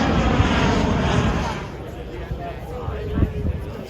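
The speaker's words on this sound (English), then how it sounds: "We saw a few planes coming over, but they get pretty close." A propeller or jet airplane passes low overhead near Prestwick Airport beside Royal Troon golf course, a loud broad engine roar that fades gradually over several seconds, with faint crowd chatter underneath.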